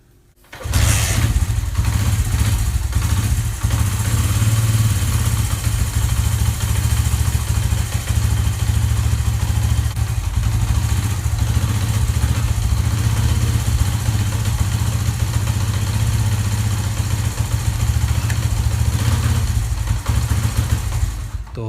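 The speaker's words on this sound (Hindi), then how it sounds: "अब मैं करता हूँ बाइक को स्टार्ट।" A Honda CD 70 motorcycle starts up and settles into a steady, close idle, its low engine thrum running continuously without talk.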